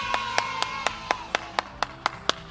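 Children clap along at an online Sunday-school Superkids service, the claps coming one by one in a slow, even rhythm, about ten sharp strikes spaced evenly, close and fairly quiet.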